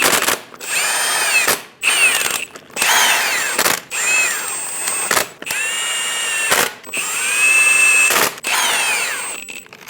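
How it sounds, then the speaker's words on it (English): Power tool snugging lug nuts onto a wheel of a 2001-2006 Chevrolet Silverado 2500, several loud whirring bursts separated by short pauses, each burst rising in pitch as the nut tightens. "Get all of the lug nuts started. Snug down all the lug nuts."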